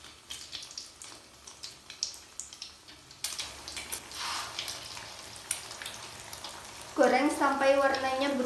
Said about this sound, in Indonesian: Setelah minyak panas, kita akan menggoreng martabak telur.